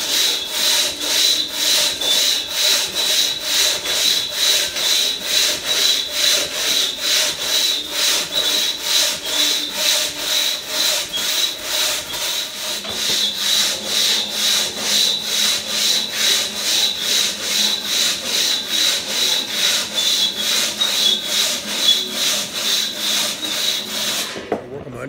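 Hand sawing through a 44-inch white oak hardwood log, steady rhythmic rasping strokes repeating roughly twice a second, close and continuous.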